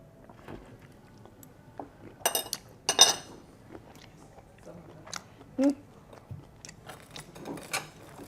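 Someone chews and bites into whiskey shrimp up close, with soft crunching and a few sharp clinks of cutlery and dishes scattered over a quiet background.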